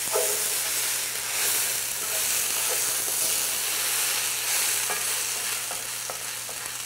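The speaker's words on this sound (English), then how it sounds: "I'm going to add them potatoes in. Good, you're still getting a good hot pan here." Potatoes sizzle steadily in a hot pan for an Indian-style dish, a loud, close hiss with occasional stirring scrapes and no talking.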